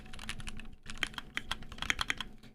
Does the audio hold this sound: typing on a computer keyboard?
yes